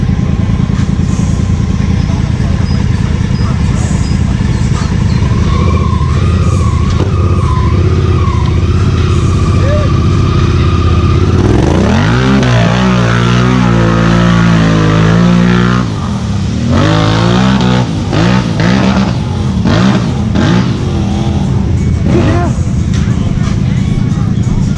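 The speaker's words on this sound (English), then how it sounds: "demonstrate his dramatically improved Honda side-by-side as well" Engine of a modified, lifted Honda side-by-side revving hard at an outdoor Halloween mud bog show, loud and close with rising and falling pitch sweeps over a steady crowd hubbub.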